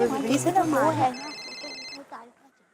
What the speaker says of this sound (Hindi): अय्यर भाई का फोन